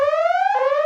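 A short electronic alarm tone sounds alone, a bright rising whine that steps up in pitch about halfway through, loud and close, lasting under a second.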